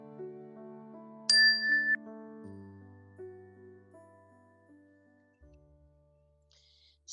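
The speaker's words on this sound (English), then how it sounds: "we'll begin the meditation with the ring of the chime and end the meditation with the ring of the chime" A meditation chime rings once, a bright metallic strike that rings on and fades slowly over several seconds against soft, sustained tones, quiet and calm with no voices.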